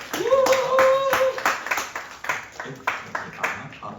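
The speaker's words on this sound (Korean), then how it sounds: "박상준 학생에게 큰 박수 한번." A youth church group claps for a student, a short round of applause from a small crowd that fades into scattered separate claps, with voices heard over it.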